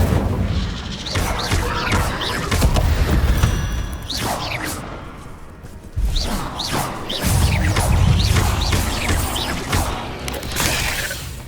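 Fiery whooshes and crashing blasts of the Incendio fire spell in Hogwarts Legacy, loud and repeated through a busy combat mix with sweeping swishes and heavy thuds.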